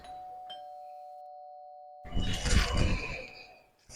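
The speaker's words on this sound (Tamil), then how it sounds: "calling bell sound கேக்குதுல" A two-tone electronic doorbell chime sounds once, a steady held tone followed by a burst of brighter ringing, fairly close and moderately loud.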